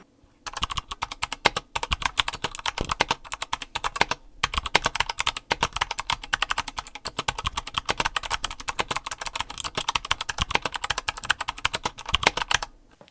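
A mechanical keyboard sits on a dampened desk and is typed on rapidly and continuously, dense close clacks with occasional heavier spacebar thumps and brief pauses.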